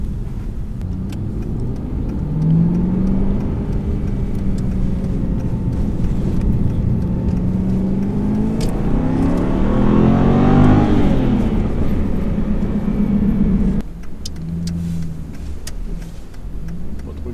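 Aston Martin V8 Vantage Roadster with the 4.7 V8 and manual gearbox, heard while driving: a steady, loud engine drone that climbs into a rev around the middle, then drops off as the throttle eases.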